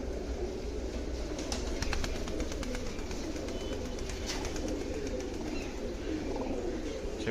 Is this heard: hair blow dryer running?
no